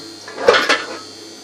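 A brief clatter of raw meat for kavurma tipped into a metal pot, with a couple of quick clanks and a soft wet slide, close by.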